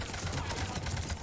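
Rapid video game gunfire firing warp ammo at enemies, a dense, continuous rattle of overlapping shots, loud and unbroken throughout.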